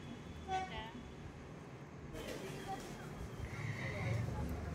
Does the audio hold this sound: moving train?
yes